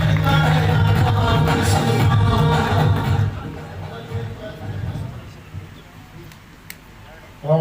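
Crowd noise at a PTI worker convention in Quetta, a broad roar of applause and cheering that is loud at first, then thins out and fades to a scattered murmur.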